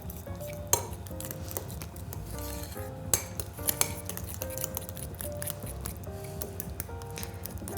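A utensil mixes icing sugar into doughnut filling in a bowl, with steady stirring and scraping broken by several sharp clinks and taps against the bowl, close and clear, with no voices.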